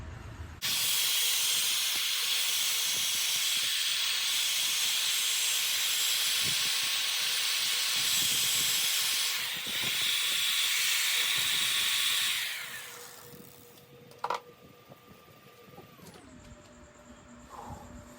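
A Manila tamarind wood bowl is sanded on a lathe through 120 to 600 grit: a loud, continuous hiss of abrasive on spinning wood holds steady, then fades as the lathe winds down, ending in a faint hum.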